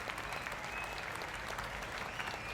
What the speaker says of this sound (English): And everyone is applauding and everyone is loving this